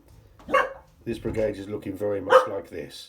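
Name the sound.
dog barking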